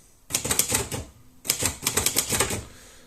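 Keys strike on a Facit 1600 manual typewriter in two quick bursts of clacking, each a rapid run of sharp, close taps with a short pause between them, with no voices.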